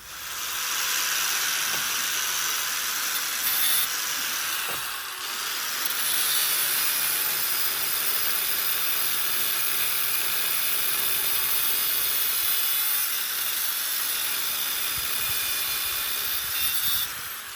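An angle grinder cutting metal whines continuously at high pitch, a steady harsh hiss of cutting that barely wavers for the whole stretch.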